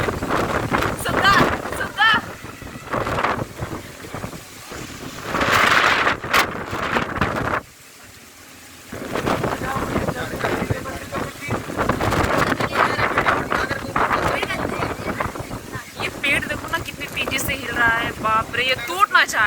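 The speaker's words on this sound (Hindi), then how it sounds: "पेड़ भी टूट जाता होगा इतनी हवा चलती है तो" Strong storm wind buffets the microphone during a heavy thunderstorm with rain in Karauli village near Kanpur, roaring loudly and nearly continuously with a brief lull midway, while people talk over it.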